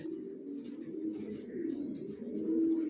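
A pair of young racer pigeons, a male and a female, coo in low, continuous, rolling tones close by, with a faint thin chirp rising briefly above them.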